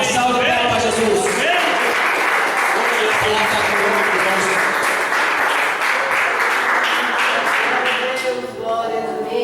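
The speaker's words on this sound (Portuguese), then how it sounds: "Uma salva de palmas para Jesus." Church congregation claps together in loud, sustained applause for nearly ten seconds, with voices calling out over the clapping.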